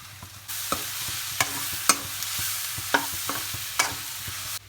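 Meat being stirred in a hot pan with turmeric and chili powder, a steady sizzle broken by regular scraping strokes of the spoon, close and fairly loud with no voices.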